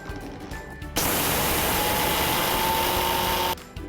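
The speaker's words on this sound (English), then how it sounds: "into my small jar of the mixer grinder I'm going to go ahead and add in the flax seeds" A mixer grinder's small jar whirs loudly as it blends flax seeds into powder, a steady high motor roar that starts abruptly after a short quiet stretch and cuts off cleanly about two and a half seconds later.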